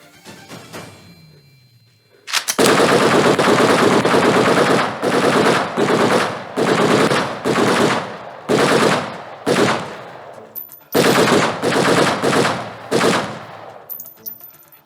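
Loud staged gunfire for a stage play bursts out after a quiet start, coming as repeated rapid machine-gun volleys of roughly one to two seconds each, separated by brief gaps, up close with no talk.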